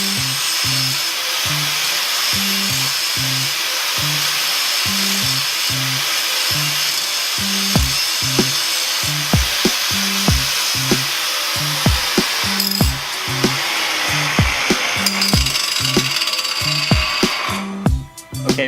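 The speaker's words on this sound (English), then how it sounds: "if you're going to be using a grinder like what I was doing, remember, get a face shield" Angle grinder cutting metal on a Shelby's sway bar relocation bracket in a garage, a steady loud high whine running throughout with repeated short bursts and knocks as the disc bites, no talk.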